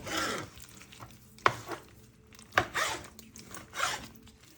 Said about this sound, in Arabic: هلا بنقطع الشرحات